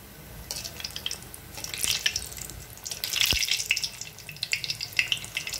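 Aloo kachori frying one at a time in a shallow layer of oil over a medium flame, a soft, crackling bubbling that swells and fades in uneven waves with a few brief sharper pops.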